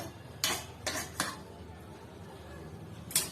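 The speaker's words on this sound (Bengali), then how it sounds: "এভাবে ঢাকনাটা খুলছি।" Metal lid lifted off a home-cooked chicken biryani pot, giving a few short clanks and scrapes close by, with a final knock near the end.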